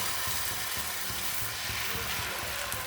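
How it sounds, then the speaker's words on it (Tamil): Millet and raw rice dosa batter hits a hot dosa griddle and sizzles, a close, steady hiss of frying that carries on evenly without pause and with no talking. "இப்போ மாவு எடுத்து ஒரு கரண்டி மாவு எடுத்து தோசைக்கல்லாம் ஊற்றிக்கலாம்"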